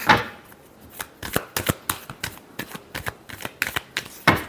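Tarot cards being shuffled by hand, a quick run of crisp riffling flicks and slaps in an irregular rhythm, close up and alone with no talking.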